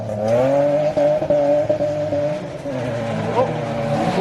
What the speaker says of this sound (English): Oh, now this is a BMW, should be rear wheel drive.